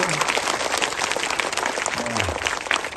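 An audience at a government school event breaks into dense, continuous applause, a broad wash of many hands clapping that stays loud and steady throughout.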